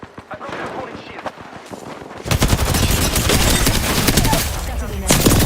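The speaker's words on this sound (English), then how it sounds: "Oh, they're shooting at me." Gunfire in the video game Apex Legends, rapid bursts of automatic shots in a dense, loud rattling stream that intensifies partway through, close and continuous, with a voice speaking in the background.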